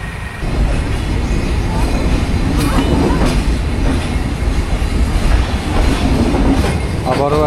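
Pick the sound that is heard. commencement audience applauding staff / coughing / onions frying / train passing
train passing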